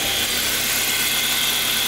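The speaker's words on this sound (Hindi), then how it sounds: "अब थोड़ा देर में गाड़ी को आइडल होने देते हैं" A Toyota Corolla with a judder and pickup problem idles with its engine running, giving a loud, steady, unbroken hiss-like hum up close, with no talking.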